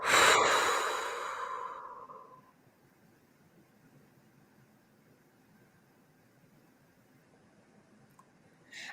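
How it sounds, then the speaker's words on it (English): Loud breath sound during a meditation clearing session, a forceful exhale trailing off over about two seconds, then near silence with a faint breath at the end. "breathe in and exhale"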